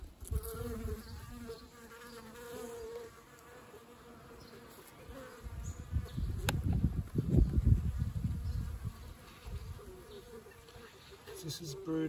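Honey bees buzz around a backyard hive, a faint, steady drone that swells louder toward the middle, with a person speaking quietly at times.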